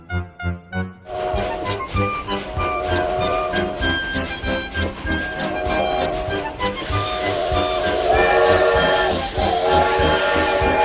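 Steam locomotive on a heritage tourist railway line opened in 1883: a loud sustained whistle blows for several seconds over rhythmic chuffing and hissing steam, which grows denser and louder toward the end.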